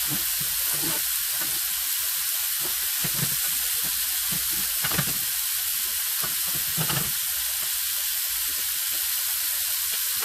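Corn sautéing in a hot pan while being stirred: a steady, loud sizzle runs throughout, broken by soft scraping bursts as the kernels are turned.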